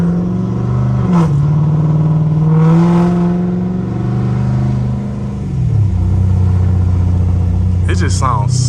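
A catless Dodge Charger SRT burbles and rumbles at low pitch after coming off the throttle on a rainy drive, heard from inside the car, with brief crackles near the end; someone talks over it throughout.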